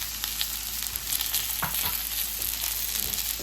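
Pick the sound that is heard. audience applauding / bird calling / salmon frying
salmon frying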